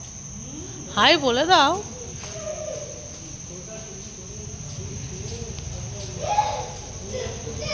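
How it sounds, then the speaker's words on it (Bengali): Crickets chirping at night along a deserted road, a steady high insect trill faintly in the background while a person talks nearby, with a brief warbling chirp early on. "ঝিঝি পোকা ডাকছে।"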